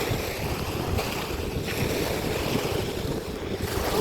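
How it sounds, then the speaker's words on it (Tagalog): Strong, cold wind blows across a beach shoreline as the tide recedes, roaring into the microphone in a dense, constant rush with surf mixed underneath, loud and close throughout. "Malamig, malakas yung hangin."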